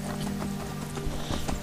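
Horse hooves clip-clopping in the video game Skyrim, a quick steady run of hoof beats, moderately close over a continuous game background with no talking.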